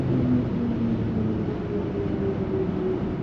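BMW iX 50 electric car accelerating hard at high speed on a de-restricted road, a loud, steady cabin roar of wind and tyres with a faint rising electric whine beneath it, no talk.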